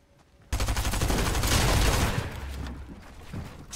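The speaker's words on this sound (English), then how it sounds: "I'm getting shot at from everywhere and tilted" Video game gunfire erupting suddenly into a dense, loud barrage of rapid overlapping shots, then tapering to scattered bursts over a few seconds.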